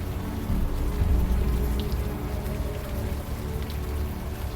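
Steady rain pours in the Unavowed video game, a dense continuous hiss of drops on surfaces with a low rumble underneath, heard alone without voices.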